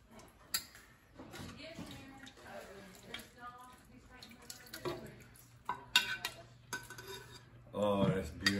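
Dishes and cutlery clink and scrape as minestra with ribs and sausage is plated, scattered knocks through the clip and a louder clatter near the end, with voices talking over it.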